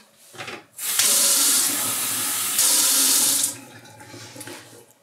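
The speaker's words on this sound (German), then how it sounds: "da werde ich jetzt erstmal hier nochmal oben Wasser raufgießen" Water being poured over the soil surface of a seed tray, a steady loud hissing stream lasting a few seconds after a short splash, then fading to faint trickles.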